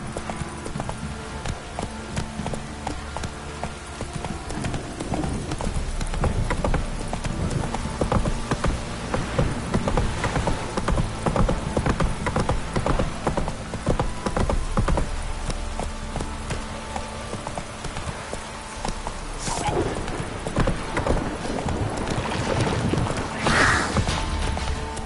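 A horse gallops in The Witcher 3 video game, its hooves pounding out a fast, steady clip-clop that runs nearly unbroken across the whole stretch.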